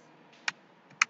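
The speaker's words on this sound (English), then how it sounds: "And I've been typing password as ABC." Two sharp, close keystrokes on a computer keyboard, spaced about half a second apart in an otherwise quiet room.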